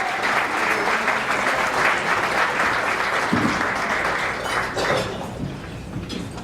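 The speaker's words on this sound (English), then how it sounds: "Give a round of applause" A gala audience at a scholarship foundation awards dinner breaks into sustained, dense applause that holds steady for several seconds before tapering slightly, with no talk over it.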